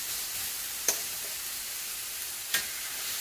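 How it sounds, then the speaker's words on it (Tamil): Chicken sizzling in a hot pan for a chicken roll, a soft steady frying hiss with a couple of brief sharp crackles, fairly quiet and close. "ஸோ இதுமே சிஸ்ல டைம் அப்போ தான் நீங்கள் இந்த சிக்கனை போடணும்."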